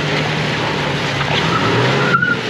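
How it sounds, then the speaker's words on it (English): An off-road vehicle fitted with a new Hooke Road bumper spins one tire on the trail, giving a loud, steady roar and hiss of wheelspin that holds throughout, close up. "You're only spinning one tire"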